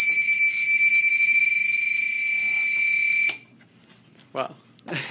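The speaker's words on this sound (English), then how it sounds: "could you do the buzzer one more time?" Buzzer mounted in a 3D-printed housing gives a loud, steady, piercing electronic tone for about three seconds and then cuts off abruptly, followed by brief close talk.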